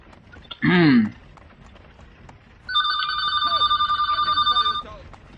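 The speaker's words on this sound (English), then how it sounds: "God dang phone." A telephone rings in Assassin's Creed III, a steady electronic double-tone trill lasting about two seconds after a short burst of game noise, clear and close.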